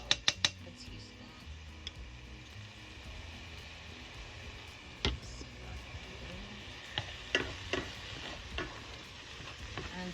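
Garlic frying in a pan for keto Spanish rice, a low steady sizzle with sharp clicks of a utensil tapping and stirring, clustered at the start and again later in the stretch.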